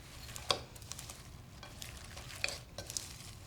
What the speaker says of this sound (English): Then we just stir it all together.